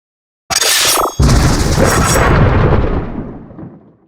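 A high, whining charge-up builds for a moment, then erupts into a deep, heavy blast whose rumble slowly fades away. No voices.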